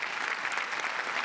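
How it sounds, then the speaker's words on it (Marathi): Audience at a Marathi television comedy show applauds to welcome stage actors from a play, a continuous, even patter of clapping heard at a modest level. "जोरदार टाळ्यांनी त्यांचं स्वागत."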